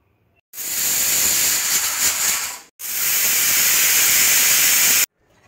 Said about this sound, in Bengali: আগে আমি মটর ডালগুলো প্রেসার কুকারে একটু সেদ্ধ করে নেব।